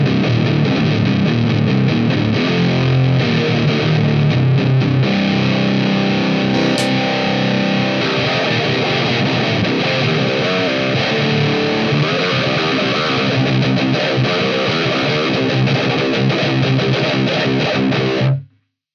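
Heavily distorted electric guitar played through a Nux distortion pedal plays a continuous riff, thick and loud with a buzzing, saturated tone, stopping abruptly at the end.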